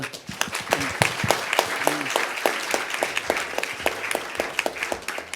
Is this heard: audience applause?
yes